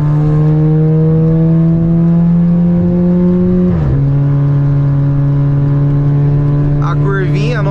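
A Volkswagen Jetta 1.4 TSI driven hard, its engine holding a loud, steady drone that drops sharply at a gear shift and then carries on, with a brief voice near the end.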